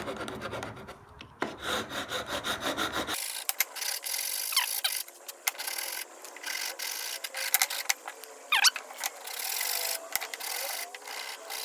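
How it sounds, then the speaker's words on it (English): A hand rasp shapes a wooden tenon for a bare-faced mortise and tenon joint, with steady, close scraping strokes in a repeating rhythm that grows coarser and more broken partway through, with no talking. "you can do it with a rasp"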